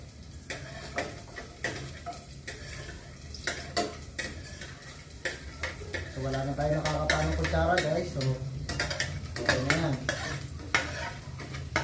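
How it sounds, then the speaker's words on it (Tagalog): Onion and garlic sautéing in oil for a monggo and longganisa dish, with repeated close utensil taps and scrapes in the pan and a sizzle that grows louder midway, no talk. "So ngayon guys, magigisa tayo ng sibuyas bawang."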